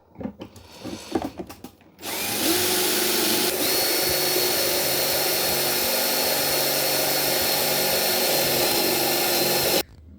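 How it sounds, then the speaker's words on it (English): A power drill bores pocket holes through a pocket hole jig during a skoolie kitchen build, running as one loud, continuous whine for about eight seconds after a few seconds of handling knocks. "going to be using this pocket hole jig to basically make pocket holes in here"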